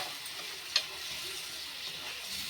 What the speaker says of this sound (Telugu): ఇలా మిక్స్ చేస్తూ కుక్ అవ్వనివ్వాలి